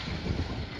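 A boat engine drones under heavy wind and crashing sea as the fishing boat is pounded by big waves, a dense, rough roar filling the brief moment.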